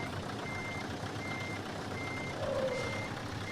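Steady, evenly spaced reversing beeps from a truck backing up slowly in Euro Truck Simulator 2, continuing throughout at moderate volume over a low engine hum.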